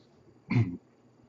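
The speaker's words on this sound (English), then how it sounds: "Already the hiccups." A short, abrupt hiccup-like vocal burst from a person who has just eaten a Trinidad Moruga Scorpion pepper, one close, fairly loud catch lasting under half a second against a quiet room.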